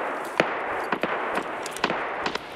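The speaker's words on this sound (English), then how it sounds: "I hear shots from the Terracoo building." Gunfire in the SPTarkov video game, heard as scattered single shots at uneven intervals, fairly faint and distant-sounding over a steady background hiss, with no voices.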